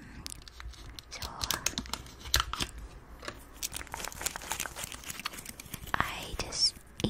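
Close-up mouth sounds of someone chewing gum, made up of crisp clicks, smacks and crinkly snaps in an irregular stream, with soft whispering mixed in.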